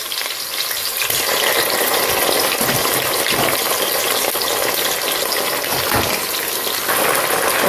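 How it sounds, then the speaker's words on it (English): Chopped onion fries in hot red palm oil for native jollof rice, a loud, continuous sizzle with bubbling and occasional stirring, close up and without talk. "Now you can see the oil is pretty much hot, so I'm going to add in our onion."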